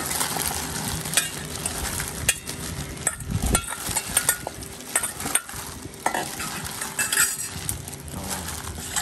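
Homemade Vietnamese rice paper salad (bánh tráng trộn) being stirred and tossed, with close, continuous rustling and scraping broken by light clinks of a utensil against the bowl.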